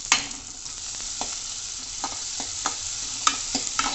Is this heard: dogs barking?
no